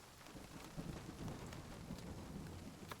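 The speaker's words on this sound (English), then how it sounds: "Oh, it's hailing." Hail and thunder in the video game Nightingale: a steady dense patter of hail with low rumbling underneath, continuous and fairly loud throughout, no voices.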